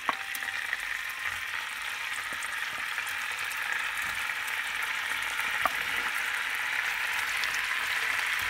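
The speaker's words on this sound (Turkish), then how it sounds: "Şimdi tofularımızı kızartmaya başlıyoruz." Tofu frying in a pan for vegan teriyaki tofu sushi gives a continuous, even crackling sizzle that holds steady and swells slightly, with a few sharper pops and no talking.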